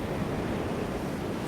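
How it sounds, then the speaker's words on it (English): Steady, roaring sandstorm wind in the video game Jurassic World Evolution 2: a dense, unbroken rush of gusting air that holds an even loudness throughout, with no voices over it. "it is mighty windy in there"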